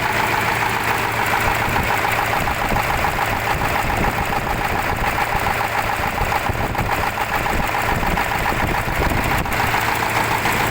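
A T-150 wheeled tractor with a YaMZ diesel idles after minor repairs, giving a steady, even knocking rumble that holds unchanged and close for about ten seconds with no talking.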